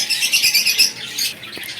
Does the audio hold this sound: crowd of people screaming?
no